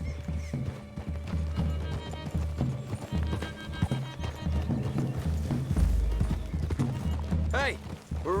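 Horses clip-clop along at a trot in the Red Dead Redemption 2 video game, hooves thudding steadily with an occasional whinny, while characters talk over the movement.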